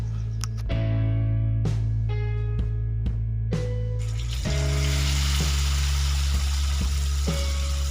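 Pointed gourd with mustard paste sizzles steadily in a hot pan, with repeated sharp metallic clinks from stirring.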